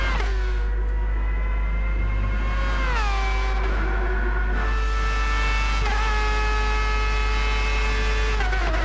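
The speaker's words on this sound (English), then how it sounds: "here the engine roared those cars" Formula X racing cars roar past at Interlagos in a racing game, several loud engine notes rising and falling in pitch with gear shifts, layered over a constant low drone and no voices.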